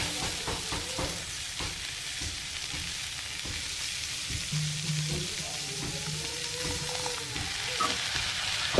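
Vegetables with masala spices fry in a pan, giving a continuous crackling sizzle with frequent stirring scrapes and clatters of a utensil against the metal.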